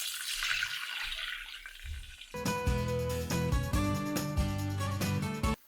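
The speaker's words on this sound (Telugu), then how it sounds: "కొన్ని ఉల్లిపాయ ముక్కలు బాగా ఫ్రై అయ్యాక ఇందులో నీళ్లు వేసేసుకుందాం" Water is poured into a pan of onions and cumin frying in oil. A soft sizzle comes first, then a loud burst of splashing and bubbling that carries on steadily.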